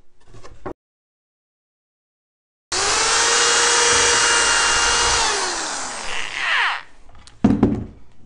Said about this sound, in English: we went ahead and drilled our holes into our 2x10 ends for the bottom